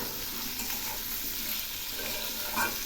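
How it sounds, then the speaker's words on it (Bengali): Boiled potato pieces with salt and turmeric fry in a pan with a steady, close, even sizzle, with a faint stirring scrape near the end. "এবার আমি এই আলুগুলো খুব ভালো করে ভেজে নেব"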